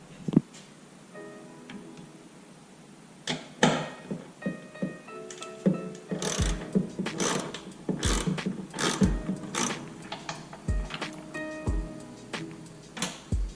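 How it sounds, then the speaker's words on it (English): A ratchet fitted with a 13mm socket and extension loosens a long bolt during a battery change on a 2010 Chevrolet Camaro SS, giving close, rapid clicking bursts with clanks and handling knocks, and no talking. "That's also going to be a 13mm socket, and you may need an extension for your ratchet to reach that"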